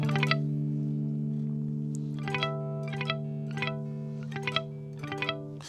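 Bell-like guitar harmonics on several strings in D tuning chime one after another over a steady sustained low drone, each ringing out with a shimmering, effected tail.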